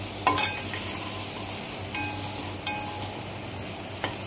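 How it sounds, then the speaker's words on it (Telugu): Paneer biryani ingredients frying in a pan with ginger, a steady close sizzle broken by a few sharp clinks and scrapes of a spoon stirring. "ఫ్రై చేసుకోవాలి బాగా."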